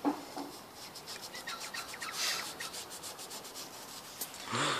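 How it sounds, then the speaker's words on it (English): Rust is scrubbed off a Honda flywheel during a clutch install in a garage, a steady close rasping rub in repeated back-and-forth strokes with a few sharper scrapes, faint overall. "Cleaning the rust off."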